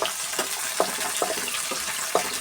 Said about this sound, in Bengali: এই যে দেখো যে কাঠের খুন্তি বার করলাম, একটু দিয়ে নিচ্ছি, একটু নাড়াচাড়া করব